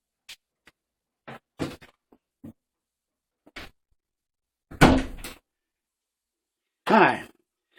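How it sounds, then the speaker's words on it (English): A door closes indoors with a few scattered knocks and bumps, then a louder thud near five seconds and another sharp impact near seven seconds, separated by quiet gaps. "Close the door."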